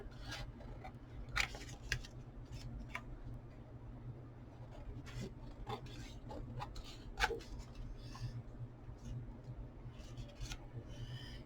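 Scissors snip through cardboard cut from repurposed cereal and food boxes, trimming pieces into journal writing boards; a few faint, scattered snips and scrapes over a low room hum, close but quiet.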